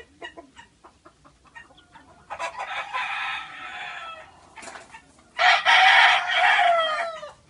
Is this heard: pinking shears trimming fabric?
no